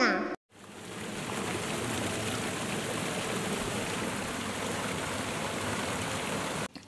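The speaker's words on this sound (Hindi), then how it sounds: "झ से झरना" A waterfall rushes in a steady, broadband roar that holds evenly across the clip after a brief gap near the start.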